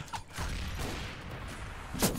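Sustained suppressing gunfire in Counter-Strike: Global Offensive, a dense continuous rattle of shots with mechanical clatter and a sharper burst near the end.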